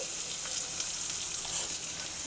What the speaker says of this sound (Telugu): పచ్చిమిర్చి కరివేపాకు ఫ్రై అవ్వాలి. కొంచెం మీడియం ఫ్లేమ్లో పెట్టండి, సరిపోతుంది, ఫ్రై అవుతుంది.